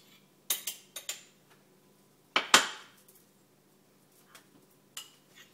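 Quinoa pilaf with peppers pressed down into ramekins: a few sharp utensil clinks and taps against dishes, one louder scraping knock mid-way, then sparse faint ticks, close with no talk.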